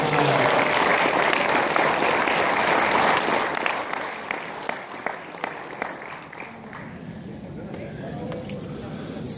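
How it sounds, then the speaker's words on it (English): An awards ceremony crowd applauds, a loud sustained wash of clapping with a few sharp individual claps that slowly thins out toward the end, with some chatter underneath. "Okay, round of applause"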